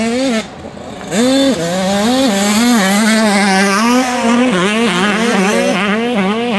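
A race car at the Cussac circuit during a European championship, accelerating hard through a corner. The engine note is loud and continuous, revving up and down in rising and falling sweeps, with a brief dip near the start.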